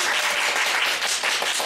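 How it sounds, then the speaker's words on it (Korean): A studio audience at a Korean book talk show claps briefly to welcome an author, a short burst of steady, moderately loud applause with no speech over it. "박수 부탁드리겠습니다."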